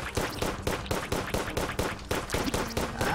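Rapid Phoenix Blaster gunfire in Terraria, an expert mode run: a loud, steady stream of about thirteen punchy shots, evenly spaced roughly four per second, with no talking over them.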